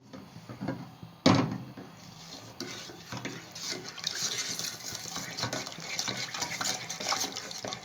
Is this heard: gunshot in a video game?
no